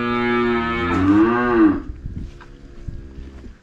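A cow moos loudly and close in rural Palencia, one long drawn-out bellow bending in pitch, followed by quieter rustling and faint farm noise.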